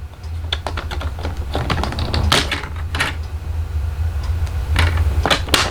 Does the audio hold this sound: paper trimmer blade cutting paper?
yes